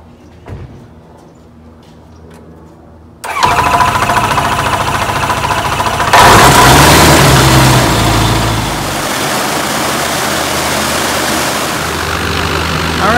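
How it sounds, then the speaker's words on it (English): A Rotax aircraft engine fitted with a DUC propeller starts up for the first time at an engine shop: quiet at first, it abruptly catches and roars loudly, then surges higher and settles into a steady, propeller-driven drone. "We do a first startup."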